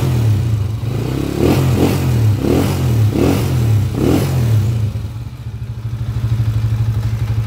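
A TMX155 motorcycle fitted with a 200cc conversion engine revs in about five rhythmic, up-close blips, then settles into a steady idle that slowly rises again toward the end.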